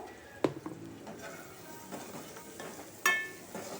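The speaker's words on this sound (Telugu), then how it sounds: "ఆనియన్స్ ఫ్రై అయిన తర్వాత కొద్దిగా పసుపు వేసుకొని మనం కలుపుకున్న తర్వాత" Fried onions with turmeric being stirred in a pan for chicken curry, a quiet low sizzle with two sharp metallic spoon knocks against the pan, close and otherwise faint.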